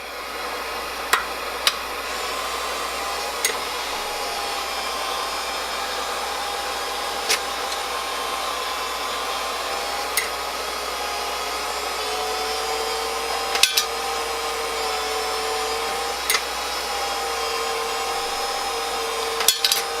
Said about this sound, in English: the machine does everything itself. Just let it run through and that anneals the cases